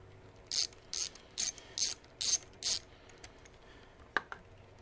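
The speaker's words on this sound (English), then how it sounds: "So, I forgot what we did with our ratchet. We're going to undo the positive terminal." A ratchet loosens the positive battery terminal on a Harley-Davidson Softail motorcycle, giving six evenly spaced bursts of crisp, close clicking, followed by a single faint metallic tap.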